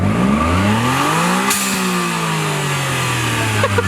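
A car engine revs up and then settles back toward idle, loud and close, at an underground car meet.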